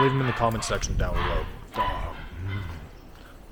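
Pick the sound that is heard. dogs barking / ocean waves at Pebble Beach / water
dogs barking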